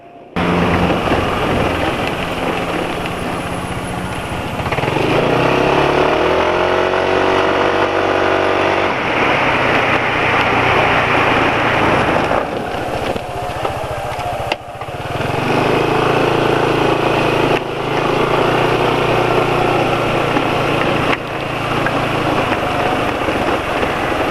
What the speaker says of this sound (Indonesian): Jadi itu ya suara mesinnya ya.